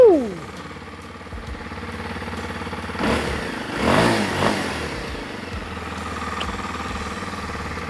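A 2023 Kawasaki KLX 230 Supermoto motorcycle engine idles close by, then revs up in a few rising pulls around the middle before settling back to a steady idle.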